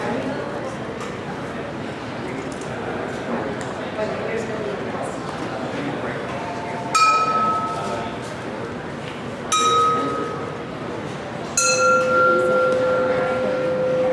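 Soft glass struck to make it ring, three separate clear tones with long sustaining decays, each starting sharply after a stretch of background noise and talk.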